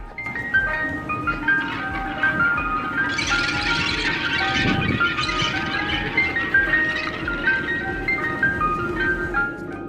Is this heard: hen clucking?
no